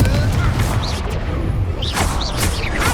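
Spell-casting blasts and booms from the Hogwarts Legacy game rumble loudly, with fizzing magical swooshes and explosive hits layered throughout, while a voice shouts spell names over the fight.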